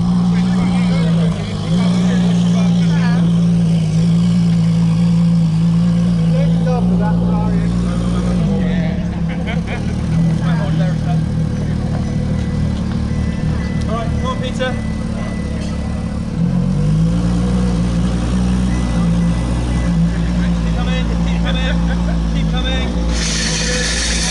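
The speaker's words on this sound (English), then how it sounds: "Looks like one of the new Honda NSXs. coming out now." Honda NSX and LaFerrari supercars pull out near a studio, a steady loud engine drone running throughout with a brief drop and rise in revs midway, while people talk over it.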